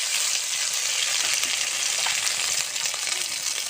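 Spices with turmeric powder sizzle in hot frying oil in which pointed gourd was fried before, a dense, steady crackling hiss throughout with no speech.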